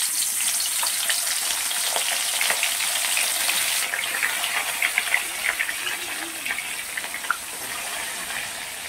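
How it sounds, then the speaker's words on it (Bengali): Salt-and-turmeric-coated bhola fish frying in mustard oil in a wok, a steady close sizzle with crackling pops and spits intensifying partway through. "এবার আমি সর্ষের তেল দিয়ে দিয়েছি, দিয়ে আর নুন হলুদ মাখানো মাছগুলোকে ভেজে নেব"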